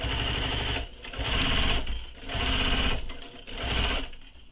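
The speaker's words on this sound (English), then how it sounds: "your machine should be able to go through it, especially if you use materials that you know the machine likes" A sewing machine stitches through the bulky flap of a small backpack in three loud, close bursts of rapid whirring, separated by brief pauses.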